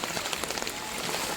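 Heavy rain pours down in Malu village during a flood, a dense, continuous hiss of drops pattering on surfaces, steady and fairly close, with no voices.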